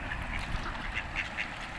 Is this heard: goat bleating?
no